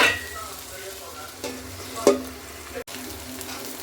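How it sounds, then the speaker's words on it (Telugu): Okra (bhindi) frying in an oiled pan with salt, a close steady sizzle broken by scraping stir strokes and a sharp clack of the spatula, no talking. "చూడండి బెండకాయ వేపుడైతే బాగా నీట్గా వేగిపోయిందండి"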